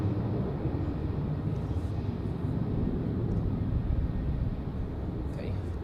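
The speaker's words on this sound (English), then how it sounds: "let's enjoy this A350 departure" Cathay Pacific Airbus A350 taking off at Zurich Airport, a steady, loud broadband jet roar that holds throughout, heard from a distance outdoors.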